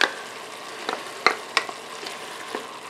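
Tomato paste being stirred into a sausage and squash stew in a pot, with soft sizzling under a few sharp spoon clinks and scrapes spaced through the stir.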